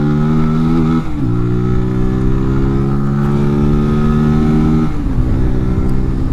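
A Zontes Scrambler 125cc motorcycle engine drones steadily nearby, its pitch climbing through the gears with brief dips at each shift, loud and continuous.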